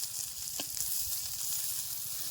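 Fish wrapped in bottle gourd leaves fries in a pan in a village kitchen, giving a constant soft sizzle with faint crackles, heard close and alone.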